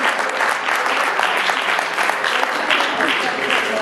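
Audience at a community celebration gathering in a civic centre claps loudly and continuously, a dense, even wash of applause from many hands close by, sustained throughout.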